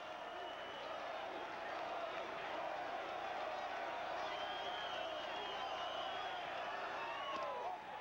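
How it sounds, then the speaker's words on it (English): A Fenway Park baseball crowd roars steadily in the distance, a sustained wash of cheering and scattered whoops that holds level throughout without any break. "Well, the Fenway crowd loves it."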